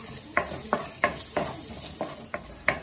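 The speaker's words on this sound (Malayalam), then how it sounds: "ഇഞ്ചിയും വെളുത്തുള്ളി ഇടാം." Ginger and garlic sauté in a pan for a Kerala mutton curry, with a soft sizzle under about eight quick, evenly spaced scrapes of a spoon stirring the pan.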